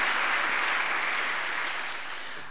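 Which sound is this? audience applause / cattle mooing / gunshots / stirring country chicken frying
audience applause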